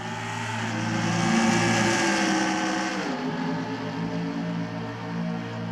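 Stock cars roar together around ISM Raceway in the NR2003 racing sim, a 2018 Cup Series mock race. The loud, sustained multi-engine drone shifts pitch as the cars pass, with no talk over it.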